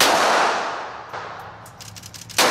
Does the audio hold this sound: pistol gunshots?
yes